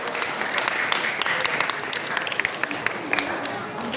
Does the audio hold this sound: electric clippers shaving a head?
no